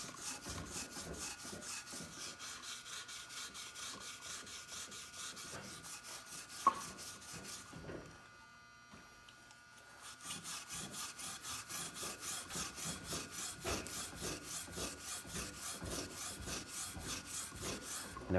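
Hand sanding of an old, crusty wheel rim with 180-grit 3M sandpaper: steady, rhythmic scraping strokes repeat for most of the stretch, pausing briefly midway before resuming, with no talk.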